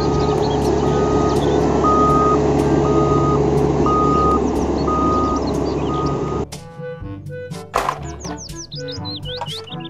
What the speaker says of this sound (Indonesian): Mobil truk